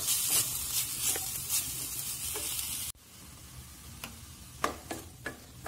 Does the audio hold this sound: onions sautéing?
yes